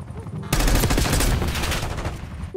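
Sudden, dense automatic gunfire erupts in a Call of Duty: Black Ops 6 match, a loud continuous barrage of rapid shots filling the clip after a brief quiet start.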